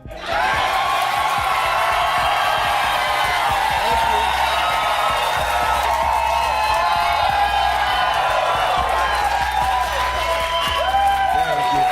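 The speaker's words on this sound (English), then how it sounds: "That applause wasn't only for a TV host returning after a suspension" A TV studio audience applauds and cheers a returning late-night host, with loud, sustained clapping, whoops and crowd roar filling the room and voices mixed into the din.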